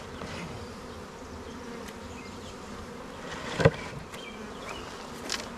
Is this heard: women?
no